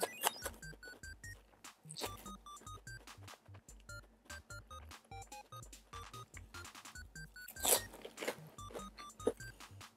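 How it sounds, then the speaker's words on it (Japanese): Close, rhythmic crunching and chewing on a homemade fried fish sandwich made with a square fish fry, each bite crisp and repeated steadily with a louder burst near the end, no talking. "学校のポリポリとフィッシュフライのサクサクがいい感じです"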